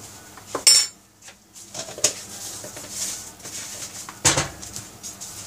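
Metal spoons clink against dishes while goat milk soap is being made, several bright separate taps scattered over a few seconds, near and fairly crisp.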